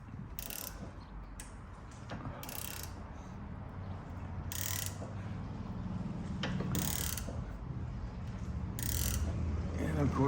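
A ratchet removing a sway bar link from a 2003 Infiniti G35, heard as five evenly spaced bursts of sharp clicking, close, over a low steady background hum.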